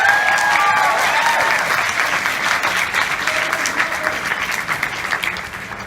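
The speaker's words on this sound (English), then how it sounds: "give me another round of applause" A Comic-Con voice-over panel audience applauds steadily and loudly throughout, a dense wash of many hands that slowly tapers toward the end.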